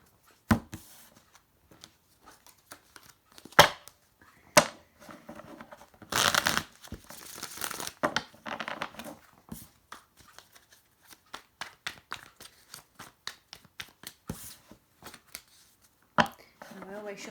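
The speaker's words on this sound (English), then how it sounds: "I want to show you how I shuffle the cards" Cards being shuffled up close in short, crisp riffling bursts, with quick snaps and rustles separated by brief pauses.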